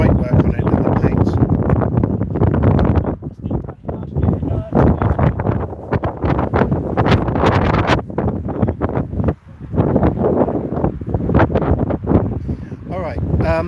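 Strong gusty wind buffets the microphone at an outdoor vehicle meet with classic cars, roaring in bursts while someone talks over it.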